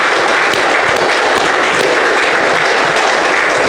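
Congregation applause at a Christian worship service, a loud, unbroken roar of many hands clapping at once, dense and sustained from start to finish.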